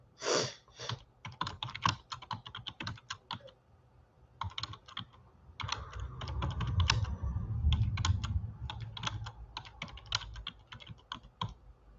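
Typing on a computer keyboard, rapid bursts of key clicks in several runs with short pauses, close and clear, with a low rumble under the middle stretch.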